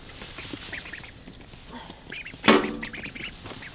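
Ducks quack in a pen while the big birds are kept under a heat lamp, with a scatter of short calls near and far and one louder, harsher squawk burst partway through.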